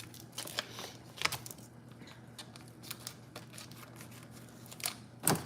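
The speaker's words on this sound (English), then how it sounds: "Cut it here with some scissors." Scissors snip through the plastic packaging of a pound of organic ground pork in a home kitchen, a series of sharp crisp cuts and crinkles spread irregularly, close but fairly quiet.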